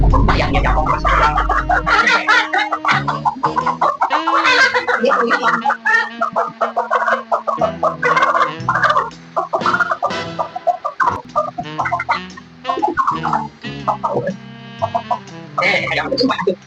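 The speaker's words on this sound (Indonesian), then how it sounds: "Ayam itu maju." Chickens cluck in a busy, dense mix, with short repeated calls layered over music and other sounds throughout.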